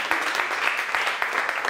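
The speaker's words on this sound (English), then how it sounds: "Round of applause for Tony." A live audience at a London Spitfire esports playoff co-stream event claps for a guest on stage, the applause running under a speaking voice and swelling slightly near the end.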